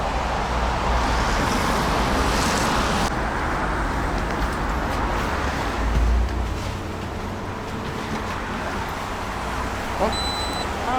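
Traffic passing a bus stop on a Moscow street, a continuous wash of road noise with engines rumbling by, fairly loud and steady throughout.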